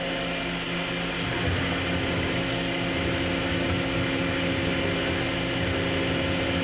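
A horizontal machining center runs its X axis at rapid traverse, a steady, even mechanical whir with a continuous hum and no break, moderately quiet and close.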